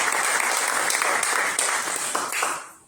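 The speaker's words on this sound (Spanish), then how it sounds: "Denle un fuerte aplauso a nuestro Dios" A church congregation claps in loud, dense applause that holds steady and then fades away at the close.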